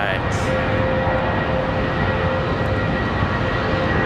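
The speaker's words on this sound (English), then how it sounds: "Sounds like a loud A319" An Airbus A320 airliner passes Charlotte Douglas International Airport, its engine roar a loud, steady broadband rumble that fills the whole clip without letup.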